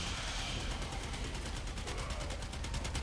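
Rapid gunfire in the Warframe video game from twin Kohmak weapons, a steady stream of evenly spaced shots running the whole time, loud and continuous with no voice over it.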